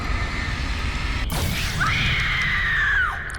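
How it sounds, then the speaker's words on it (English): Scream in the video game Alan Wake: a sharp crash or bang followed by a rising then falling shriek lasting about a second, loud over a steady ambient rumble. "I like the scream"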